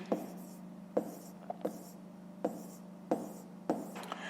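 Pen writing numbers on paper during a fifth-grade maths exercise: soft scratchy strokes with small taps roughly every half second to second, close and quiet over a low steady hum.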